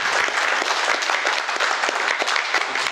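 Sustained audience applause at a French conference on energy independence and sobriety, dense steady clapping filling the room for the full three seconds, welcoming the speaker.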